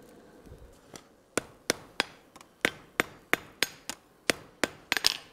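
Hot iron hammered on an anvil during forge welding for a colonial-style trivet: about a dozen sharp, ringing blows in a steady, slightly quickening rhythm, close and loud with no talking.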